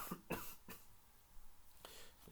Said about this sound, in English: I've got a cough, so forgive me.